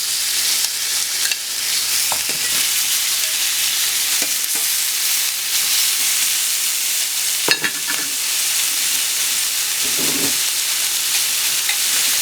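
Pork chops frying in a hot pan for Vietnamese sauced pork chops, a steady loud sizzle throughout with occasional faint clinks and scrapes of a utensil, and no talk.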